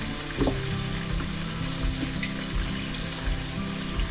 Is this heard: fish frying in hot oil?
yes